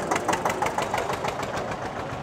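A tractor engine idles at a fodder market in Bhiwani, Haryana, with a rapid, even knocking chug. It is moderately loud and close, with no voices.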